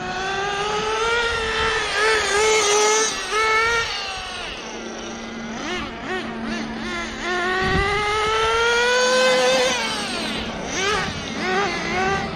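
A HoBao Hyper VS2 nitro RC car runs rich on the high-speed needle, its small glow engine buzzing loudly and revving up and down continuously, near and unbroken, with no talk over it.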